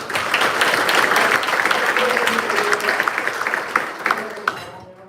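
A banquet crowd at a college baseball event applauds its coaches: dense, sustained clapping from many hands, fairly loud and close, thinning out near the end, with some voices mixed in.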